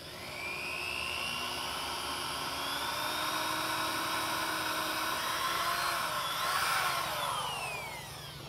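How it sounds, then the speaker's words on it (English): A power drill whines at high pitch boring a pilot hole before a 10 mm hole for a boat's Hydrovane bracket, running steadily for several seconds with a slight rise in tone near the end, close and loud. "he's going to just do a pilot hole first before drilling the actual"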